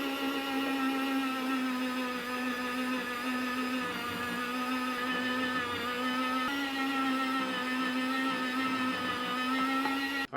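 A steady, loud motor hum and whir runs continuously while cured capicola is sliced, most likely on a meat slicer, with no voices over it.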